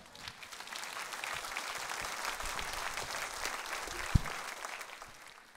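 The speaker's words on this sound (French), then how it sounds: "Ça ne vaut pas un applaudissement, ça." A crowd applauds with steady, moderately loud clapping that swells and holds, with one sharp thump near the end before it fades slightly.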